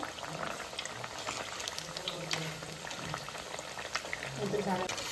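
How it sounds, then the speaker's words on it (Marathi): Colocasia leaf fritters (alu vadi) fry in oil over a medium flame, producing a continuous bubbling, boiling-like crackle with scattered pops that grow slightly louder toward the end. "लो टू हाय अशी फ्लेम वापरूनच अलवडी फ्राय करायची आहे तर आता पुन्हा मी मिडियम फ्लेमवर करत आहे अलवळी पलटून घेऊया"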